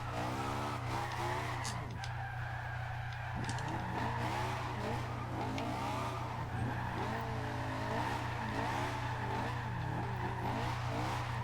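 A Honda S2000 drifting in the racing game Forza Horizon 2, with a continuous, loud tire squeal that swells and wavers over a steady engine drone and a low hum, with no pauses.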